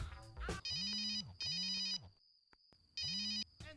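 A telephone ringtone sounds in three loud electronic bursts with short gaps between them, close by, with no talking over it.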